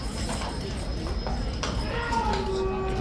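Horse shifting and stamping its hooves inside a starting stall at a racecourse, several irregular clops and knocks under a continuous din of background noise, with some faint tonal sounds.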